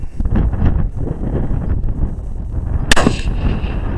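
An outdoor rifle shot aimed at a target 100 yards away: one sharp, loud report near the three-second mark over steady wind rumble and background noise. Rifles on hand include an S&W AR15.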